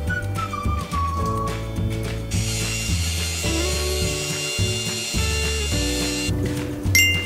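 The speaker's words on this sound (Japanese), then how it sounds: "このサイドステップを磨いていきます。" A power polisher works the side step of a 13-year-old Nissan Fairlady Z33, its motor droning in repeated pulsing passes with brief stops and restarts, loud and close.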